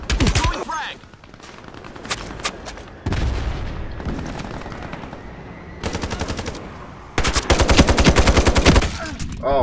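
Bursts of short tap-fired gunshots from a weapon in the online shooter Ironsight, loud and close, with several separate volleys and a longer, heavier burst near the end.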